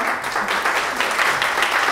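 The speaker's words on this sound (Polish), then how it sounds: "Wielkie brawa!" Applause from a concert audience, a steady dense wash of clapping that fills the whole stretch without any talking.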